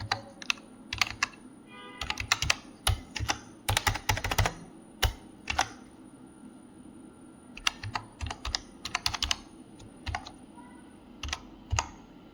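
A password being typed on a computer keyboard: close, crisp keystrokes in quick irregular bursts with short pauses, thinning out toward the end, with no talking.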